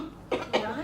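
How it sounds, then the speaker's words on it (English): Two quick, close coughs from a woman, sharp and hoarse, about a quarter second apart, in an otherwise quiet indoor setting. "It's just a cough."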